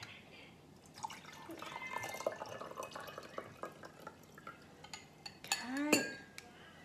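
Kangen water trickles and splashes out of a cup, with soft drips and light clinks of the cup, ending in a brief louder pour near the end.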